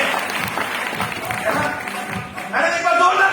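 An audience at an indoor seminar claps in scattered bursts, the applause fading briefly and then swelling again near the end.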